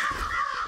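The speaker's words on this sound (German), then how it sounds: "Ja, das ist eine Krähe." A single harsh crow caw in a video game, short and fairly faint, heard on its own.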